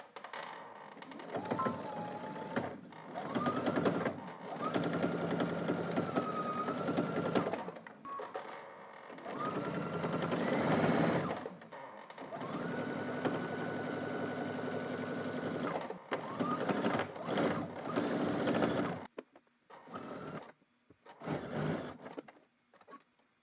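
A sewing machine runs a narrow zigzag or stretch stitch with a back stitch at the start and end, in several steady bursts of whirring separated by short pauses, fairly close and moderately quiet.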